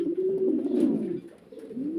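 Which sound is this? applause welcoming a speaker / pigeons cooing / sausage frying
pigeons cooing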